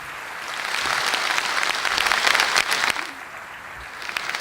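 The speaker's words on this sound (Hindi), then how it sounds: "एक बार फिर से हमारे सर्वप्रिय प्रधानमंत्री के लिए जोरदार तालियां हो जाएं" An audience at a birth centenary function for the late Girdhari Lal Dogra gives the Prime Minister loud, dense applause. The clapping swells to a peak and then thins out toward the end.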